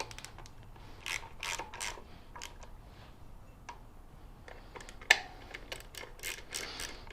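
Clicking ratchet strokes tighten bolts on a 2016 Harley Davidson Dyna, coming in short, irregular bursts of close mechanical ticking with a sharp metallic clink partway through, and no talking.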